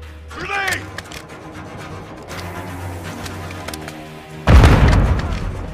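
A grenade explodes in the video game Modern Warfare 2, a single loud, close boom that erupts after a few seconds of quieter background and rumbles on as it fades.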